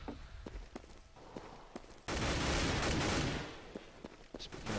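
Gunfire on the de_mirage map in the video game CS:GO during a NiP vs Clan.Mystik ESEA match, faint scattered shots and footsteps, then a sustained loud burst of rapid fire lasting about a second and a half.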